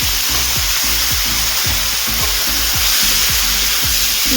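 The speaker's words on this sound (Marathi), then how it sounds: "त्याला एक दोन मिनटं परतून घ्यायचं तेलामध्ये" Mixed vegetables and peas stir-fry in hot oil with a loud, steady sizzle, while a utensil scrapes and stirs the pan in a regular rhythm throughout.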